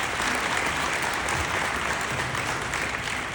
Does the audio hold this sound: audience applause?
yes